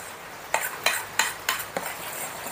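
A spoon stirs cake batter mixed with melted margarine in a bowl, making five evenly spaced scraping strokes, close and fairly quiet, with no voices.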